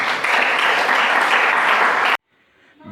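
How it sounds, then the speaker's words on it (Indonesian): Audience applause at an Indonesian speaking event, a loud, dense wash of clapping that holds for about two seconds before stopping abruptly into near silence. "Tepuk tangan dulu."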